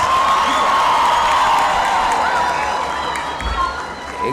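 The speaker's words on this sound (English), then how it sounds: "Applause, please." Large crowd at a university graduation ceremony claps and cheers loudly and continuously, a broad sustained roar of applause that eases slightly toward the end, with no talking over it.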